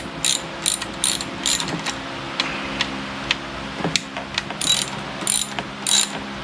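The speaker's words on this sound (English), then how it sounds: "we're going to take our 12mm ratchet, and we're going to take off these 4 bolts" A 12mm ratchet turning to remove four bolts during a Yamaha 100-hour service, close and loud, its pawl clicking in quick bursts with short pauses between strokes, no voices.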